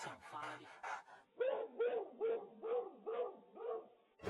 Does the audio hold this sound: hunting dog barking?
yes